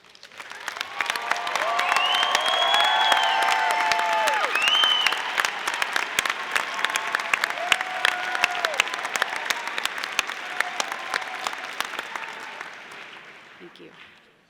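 Sustained applause from a commencement crowd for graduates with distinction at a Colorado State University College of Health and Human Sciences ceremony, steady and dense throughout, with some cheering and a few voices mixed in before it fades at the end.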